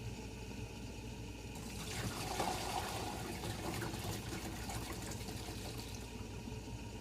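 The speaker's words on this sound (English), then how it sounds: "pasta is ready to be drained. Let's go ahead and drain it." Cooked pasta is drained as water pours out in a steady, moderately quiet gushing splash for several seconds, swelling slightly midway, with no talking.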